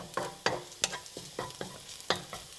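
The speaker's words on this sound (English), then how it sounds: "It's turning brown because I cut up the onions super thin so it cooks quick" Super-thin sliced onions fry and brown in a pan for a Lao yum salat, soft steady sizzle punctuated by about eight sharp scraping knocks of a utensil stirring against the pan.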